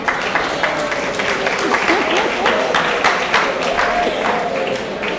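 A school centenary audience claps throughout, dense and continuous, with voices and cheering mixed in over the clapping and no clear pause.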